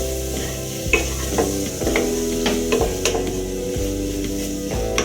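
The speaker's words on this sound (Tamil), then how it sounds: "நம்ம எடுத்து வச்சுக்கிற புதினாவே நான் இப்போ போட்டுக்கிட்டு ஒரு கிளறிடுறேன்" Mint is stirred into Tamil hotel-style salna gravy in a pan, with a spoon scraping and tapping in irregular strokes over a low sizzle and steady background music.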